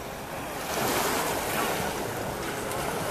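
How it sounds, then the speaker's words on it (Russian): Sea waves wash steadily onto the shore of Ko Rin island in Thailand, a broad continuous surf rush with some wind buffeting the microphone, swelling slightly and then holding steady throughout. "Но очень теплое, красивое и ласковое море."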